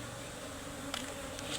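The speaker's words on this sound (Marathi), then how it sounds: "मी बघतोय दाबली जात नाही ना कुठे माशी" Honeybees buzz while being moved into a box: a steady, fairly faint drone holds throughout, with a few brief louder flickers near the end.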